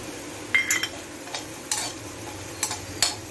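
Carom seeds (ajwain) tossed onto onions already fried for savory vermicelli, giving a low sizzle under several sharp spoon scrapes and clinks of stirring, close up, with no talking.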